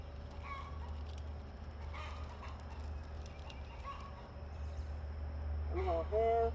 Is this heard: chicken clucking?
yes